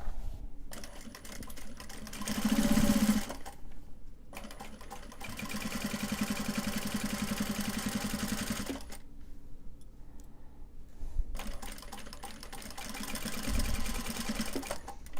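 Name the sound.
sewing machine stitching fabric cell phone purse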